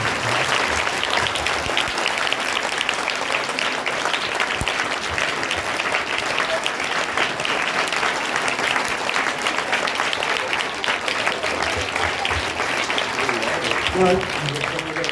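A school seminar audience run by a Ramakrishna Vivekananda service trust claps steadily in a dense, sustained round of applause that carries on, even and loud, for about fifteen seconds without letup.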